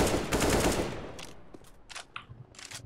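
Automatic gunfire in CS:GO rattles in a dense, loud burst at the start, then fades into scattered single shots and distant cracks.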